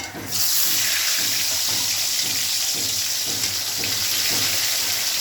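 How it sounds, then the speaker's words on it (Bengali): Hot oil bursts into a loud, steady hiss as tilapia go into the pan one by one, sizzling continuously with faint crackles underneath. "এবার তেল গরম হয়ে গেছে, এখন মাছগুলো ছেড়ে দিই এক এক করে।"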